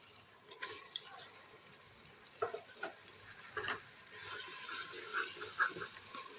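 Raw minced meat goes into a pan of fried tomato masala, giving a soft, steady sizzle with scattered scrapes and stirring knocks, all fairly quiet and close, with only faint traces of voice.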